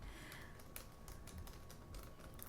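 Soft, quick typing on a computer keyboard, close and quiet with irregular bursts of key clicks, in a calm ASMR-style real estate consultation setting.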